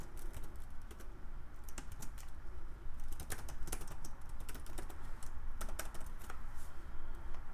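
Continuous, fast typing on a computer keyboard as HTML template code is entered, a close, busy patter of crisp key clicks over a faint steady background hiss, with no talk.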